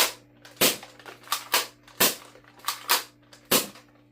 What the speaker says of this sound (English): the cylinder actually rotates into position, and then the blaster fires